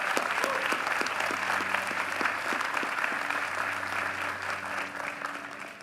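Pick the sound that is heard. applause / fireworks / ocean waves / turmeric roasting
applause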